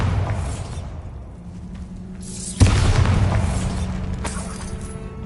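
Magic spell blasts in Hogwarts Legacy, Confringo and Bombarda, one loud booming explosion with a shattering crack at mid-clip, set against a rumbling game background and a later smaller burst.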